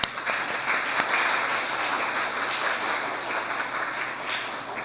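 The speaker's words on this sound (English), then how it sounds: "It's okay to clap." A congregation at a Sunday church service applauds, a broad, even roll of many people clapping that holds steady throughout and starts with a sharp first clap.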